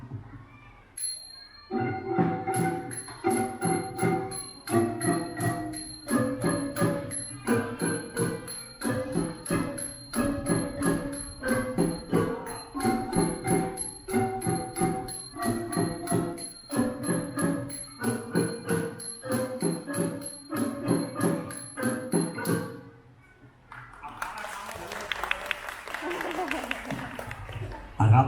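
A Thai ranat ek wooden xylophone plays a lively melody of quick struck notes for about twenty seconds at a school performance, then stops, followed by a burst of noisy chatter or applause.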